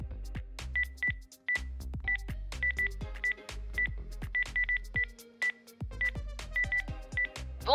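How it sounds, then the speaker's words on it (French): A phone number is keyed in as a quick run of DTMF tones, a dozen or so short beeps in uneven rhythm, close and clear with no voices. "Je compose le numéro?"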